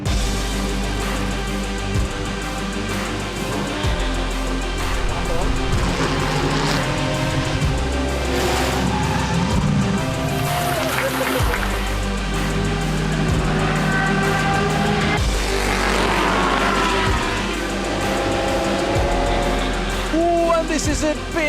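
Lamborghini GT race cars battle at Balaton Park circuit in the ESET Cup GT race, with engines revving and passing among crowd and track noise while an excited commentator talks over it throughout.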